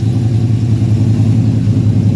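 A 1974 Chevy Caprice with a rebuilt rear end and aftermarket exhaust runs close by, a loud, steady low rumble with a slight throb and no voices over it.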